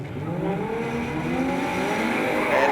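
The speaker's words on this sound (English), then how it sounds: "Templeman, Jenkins, they wait for the nod, the revs rise, and" Drift cars, including a Toyota GT86, rev their engines at the start line of a D1NZ pro drift battle in Wellington, a loud, steady engine roar with pitch gradually climbing as revs rise.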